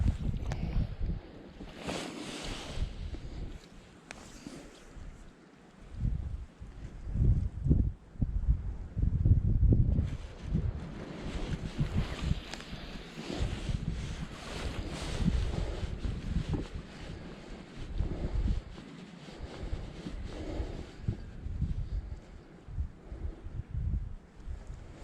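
Wind gusts blow steadily outdoors by the water in early July, a broad rushing roar buffeting the microphone and swelling and easing for the full stretch, with no talking.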